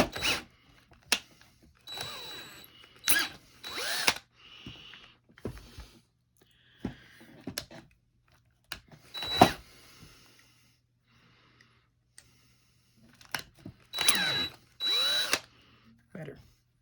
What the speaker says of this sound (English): Flip it over, tighten it back in the drill, and I'll do the other side.